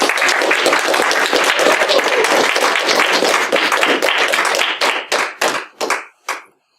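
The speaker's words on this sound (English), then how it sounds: "would you guys please give this woman a huge round of applause" Audience applause for a public speaker, dense clapping from a crowd that holds steady, then thins into a few scattered claps and fades out.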